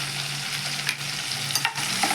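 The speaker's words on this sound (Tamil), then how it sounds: "எல்லாமே எண்ணெயில் கொஞ்சம் வதங்கிக்கணும்" Cashews and spices sauté in hot oil with a continuous close sizzle, broken by a few short stirring scrapes against the pan.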